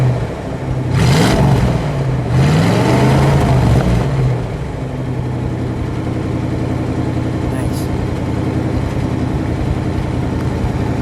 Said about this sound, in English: Give it a rev, would you please, Jay?